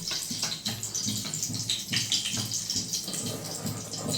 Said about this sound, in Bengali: গরম জলে পনিরটা ভিজিয়ে রাখবো